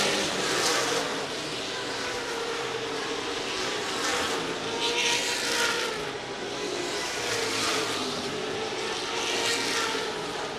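Race cars roaring around a short track in the closing laps of an October 2017 race, a sustained loud engine drone that swells and fades as cars pass, with no voices heard.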